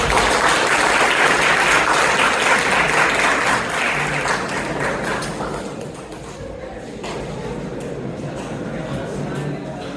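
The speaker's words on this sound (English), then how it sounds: "Kindly welcome, sir, and indeed the huge round of applause." Loud, dense applause from an audience welcoming a guest, fading after a few seconds into lighter scattered clapping with background murmur.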